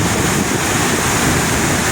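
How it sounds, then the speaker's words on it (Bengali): Water falling and flowing at Mukutmonipur reservoir, heard as a loud, constant broadband rush of churning water mixed with wind buffeting the microphone, close by and steady throughout, with no talking. "যে জলটা এখানে পড়ছে"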